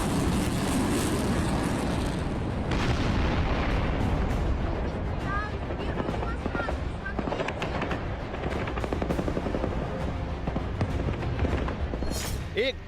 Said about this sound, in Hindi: एक धमाका और सब धुआं-धुआं। यूक्रेन के पूर्वी इलाके डोनेस्क में रूसी मिसाइल काल बनकर गिरी।